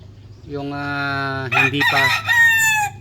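Brood stag roosters of a Red and Mt. Banahaw line crow, one long drawn-out call followed by overlapping, harsher crows from close by, loud and alone with no talk.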